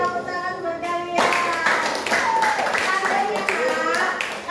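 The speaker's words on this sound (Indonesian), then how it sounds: "Oke, tepuk tangan buat kalian." Students applaud in a classroom, a burst of steady clapping that starts about a second in and carries on close and fairly loud to the end, following brief voices.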